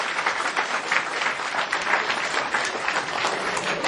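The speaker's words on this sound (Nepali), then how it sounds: "जोरदार ताली।" Loud, sustained audience applause at a song album release event, dense continuous clapping from a large crowd holding an even level throughout.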